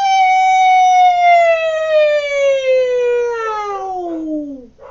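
A Peking opera vocal exercise imitates a cat's meow, a loud, sustained sung tone that starts high and slides slowly downward over several seconds, ending in a quick drop. The voice is imitating the sound.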